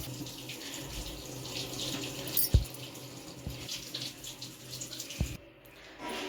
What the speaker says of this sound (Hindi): पानी आ रहा था, तो मैंने कहा पानी भरकर भी रख लेते हैं